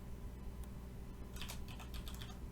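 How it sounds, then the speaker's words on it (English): Short burst of typing on a computer keyboard, several quick clustered key clicks over a faint steady hum, close and quiet, no speech. "So if I type in a new name"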